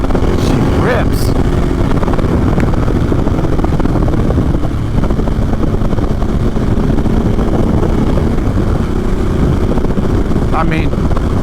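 A Harley-Davidson Sportster S motorcycle accelerates at full throttle, a loud continuous engine roar and rushing wind noise filling the whole stretch close to the rider, with no voice rising clearly above it.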